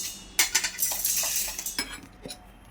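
Roasted chai masala powder is spooned from a pan into a mixer jar, giving quick metallic clinks and scrapes of a spoon against steel in a short close burst, with no talking.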